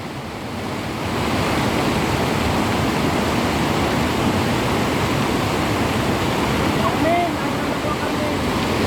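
Rising flood water rushes steadily past, a dense, continuous roar of flowing water that swells slightly after the first second and holds loud and close, with wind buffeting the microphone.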